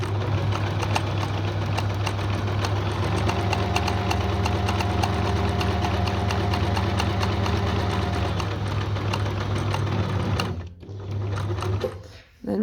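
A sewing machine stitches fabric appliqué in a fast, steady mechanical rattle that runs close and loud for about ten seconds, then stops abruptly, leaving a brief quiet before a short final burst.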